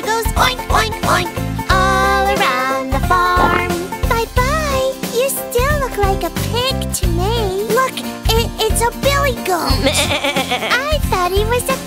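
In a cartoon nursery rhyme about a goat on a tractor, sung voices imitate a goat's bleat in quick repeated 'meh' calls over loud bouncy backing music.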